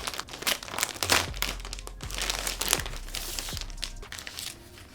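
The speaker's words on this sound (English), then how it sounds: "Removing the plastic, my favorite part." Crinkly plastic wrap is peeled off a new Alienware gaming keyboard, a close continuous rustling and crackling with occasional sharper crunches and tearing sounds.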